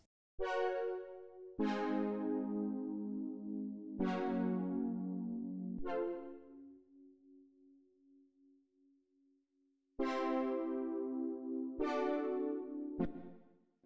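A synthesizer in Ableton Live plays randomly generated chords that ring out one after another at an uneven pace, each struck sharply and then decaying, with one long sustained tone in the middle.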